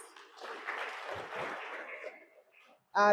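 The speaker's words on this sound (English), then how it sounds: "Can you give them a round of applause?" A round of audience applause for an under-15 national women's football team at a strategy launch event, a brief swell of clapping from the crowd that fades away, followed by a short loud sound right at the end.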